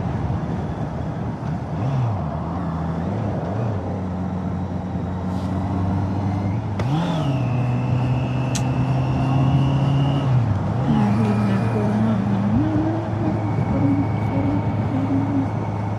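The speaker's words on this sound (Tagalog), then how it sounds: "Traffic. Traffic dito." Road traffic on the STAR Tollway toward Lipa City: a steady, loud drone of cars and trucks with rising and falling engine tones, a brief hiss like an air brake midway, continuous throughout.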